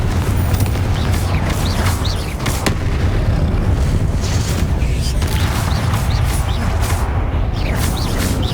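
Heavy magical blasts from Confringo spells in the game Hogwarts Legacy, a dense, loud roar of booming impacts and rushing noise that runs continuously with repeated bursts.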